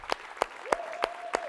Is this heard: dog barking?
no